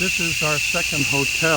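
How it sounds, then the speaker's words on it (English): A loud, steady, high-pitched drone from millions of cicadas in Costa Rica fills the air continuously while someone speaks over it. "the sound you're hearing are cicadas. Millions and millions of cicadas."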